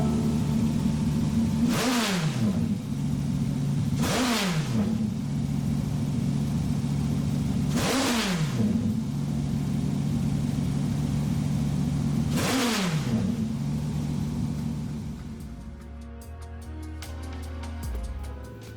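A Dodge Viper Gr.4 race car with a V10 engine in a racing video game's cup tryouts: a steady loud engine drone broken by four sharp rev surges with quick drops at gear changes, easing off near the end.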